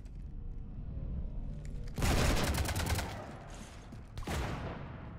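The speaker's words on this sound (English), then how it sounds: "You want to stop shooting up my ship?" Dense video-game gunfire raking a spaceship, a rapid crackling barrage that starts abruptly, runs for a couple of seconds, breaks off briefly, then resumes with another burst over a low rumbling background.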